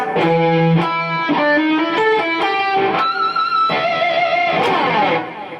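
A distorted electric guitar plays a quick upstroke escape picking lick of sliding, bending notes, with sharp squealing pinch and tapped harmonics cutting in near the end, loud and close.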